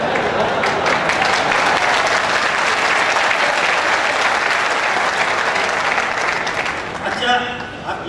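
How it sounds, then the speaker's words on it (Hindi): Loud, sustained applause from a large audience at a Forever Living success day event in Meerut fills the whole stretch, dense and steady before thinning slightly near the end. "बताइए तालियां क्यों बजा"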